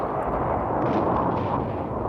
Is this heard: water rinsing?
no